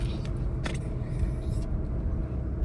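Steady low road rumble of a car being driven, a continuous engine and tyre drone filling the clip with a brief click near the start.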